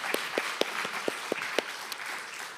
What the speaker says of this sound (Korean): 우리 하나님께 감사와 영광의 박수를 올리겠습니다.